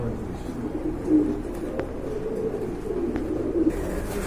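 A pair of Kittel racer pigeons coo softly in low, murmuring phrases that repeat steadily over a faint background hum, with no voices.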